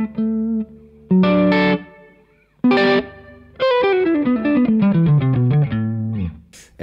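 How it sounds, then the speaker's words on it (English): Electric guitar played through a pedalboard with plate reverb set to its minimum, heard alone as a few chords followed by a descending run of single notes, with a short reverb tail and a slightly driven tone. "So this is my minimum plate reverb"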